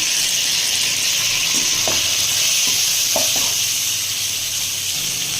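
Tomato and garlic sauté with onion in a pan, a loud, even sizzle with a few stirring taps and scrapes close by.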